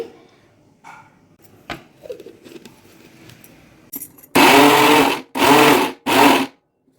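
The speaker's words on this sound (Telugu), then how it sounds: "మరీ పేస్ట్లా కాకుండా పల్సిస్తూ మిక్సీ పట్టాలండి" A mixer grinder pulses gongura chutney ingredients in three short loud bursts, each a few seconds long, after some quiet clinks and handling sounds.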